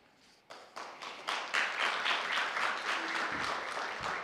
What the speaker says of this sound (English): I guess you can clap when they come up.